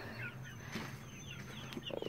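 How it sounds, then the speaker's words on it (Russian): Newly hatched baby chicks under a red heat lamp peep in faint, high chirps, a soft, continuous scatter of little calls heard from close by in quiet surroundings. "А тут у нас маленькие цыплятки."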